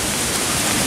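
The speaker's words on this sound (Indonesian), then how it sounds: "Air terjun." A waterfall on Bukit Sadap hill roars as a dense, steady rush of falling water, close and unbroken throughout.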